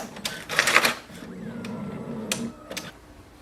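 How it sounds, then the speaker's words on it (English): Brother MFC-J4535DW inkjet printer printing a sheet, heard up close as short mechanical whirs, clicks and paper-feed clatter over a quiet background hum. "Here we can see it has printed the sheet."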